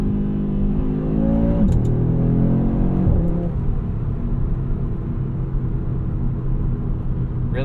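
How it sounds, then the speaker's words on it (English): Exhaust of a 2022 Audi RS3 sedan heard from inside the car in manual mode, a steady loud engine drone rising in pitch with two quick paddle upshifts that break the tone, on a bumpy road. "the exhaust is louder, and that exhaust just sounds great"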